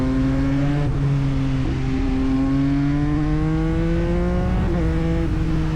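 A Yamaha MT-09 motorcycle engine drones steadily under a rider-mounted mic, its exhaust note climbing through gears with short dips at each shift, loud and close with no talk.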